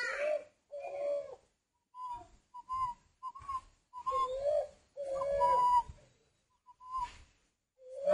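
A tame male dove in a bird-breeding shop coos in short repeated whistling calls with brief pauses between them, close and clear with no talking.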